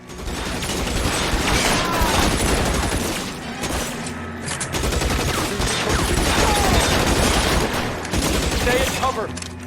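Dense, loud gunfire in L.A. Noire as shots are fired at barrels full of gasoline, volleys overlapping almost without a break from start to finish.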